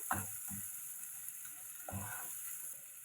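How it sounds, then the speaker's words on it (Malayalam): Curry leaves, tomato and shallots sautéing in a pan for a spicy omelette, with a soft steady sizzle and a few short stirring scrapes near the start and around the middle, no talk. "കുറച്ച് കറിവേപ്പില കൂടി ഇട്ട് കൊടുക്കാം അപ്പോൾ ടൊമാറ്റോയും ചെറിയ ഉള്ളി എല്ലാം കൂടെ നന്നായി വഴന്ന് വരണം"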